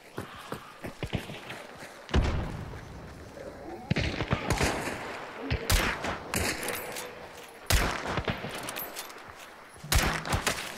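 Gunfire in the video game Hunt: Showdown comes as a series of sharp, loud shots spaced a second or two apart, some with echoing tails, over background game ambience and faint voices.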